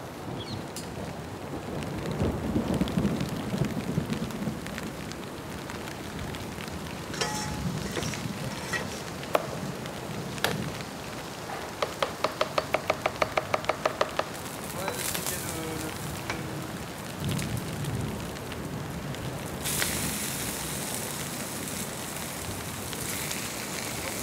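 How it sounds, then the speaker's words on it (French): Rain falls steadily on a Singapore rooftop farm with a hissing, crackling patter, low rumbles of thunder rolling underneath and a brief burst of heavier drumming midway, without voices. "il pleut."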